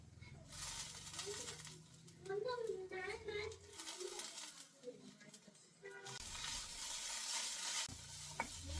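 Onions fry in a pan with a steady sizzle and scraping stirs while coriander and mint go in for a home-cooked Sunday meal for guests. The sizzle drops away and returns, and a voice talks over it.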